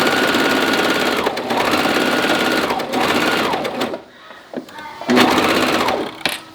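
A sewing machine stitches a gathered sleeve onto a knit sweater in loud, close bursts of rapid mechanical whirring, pausing briefly before starting again.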